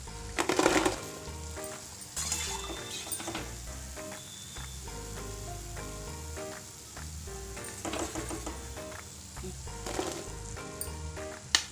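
Drumstick-leaf mathari frying in hot oil gives a continuous close sizzle, with bursts of louder crackling and popping and occasional light clinks of utensils.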